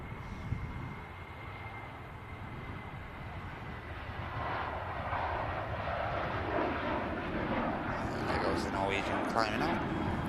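An airplane climbs out after takeoff from Manchester Airport, its engine roar a broad, steady rumble that swells slightly partway through, while someone talks over it.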